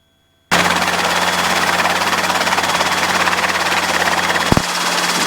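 Robinson helicopter on a training flight, its engine and rotor drone starting abruptly and holding steady and loud, with a brief sharp burst near the end and no talk.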